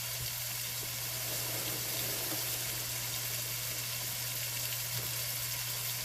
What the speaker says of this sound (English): let me just rinse my hand real quick